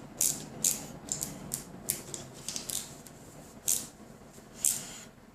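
Small screw being driven by hand into a plastic Tamiya flatbed trailer model, a series of quiet, crisp ratcheting clicks at irregular intervals, close up, with no talking.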